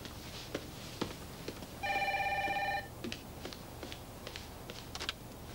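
A telephone rings once in a short burst of electronic bell tone, fairly close, amid faint room noise and light incidental clicks and movement.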